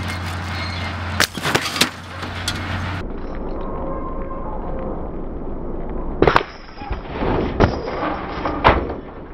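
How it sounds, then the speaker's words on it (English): A snapping winch cable sends the chain and hook into a vehicle. It comes through as sharp, loud outdoor cracks and bangs: a burst of impacts early on, then another cluster of hard hits and clatter later. "The idea is the chain's going to come off with the hook and go straight into this vehicle."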